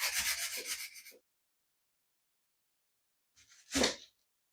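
Sandpaper of 220 grit rubbing over a painted wooden surface, a close, dry scratchy rasp lasting about a second, then silence, then one short louder sanding stroke.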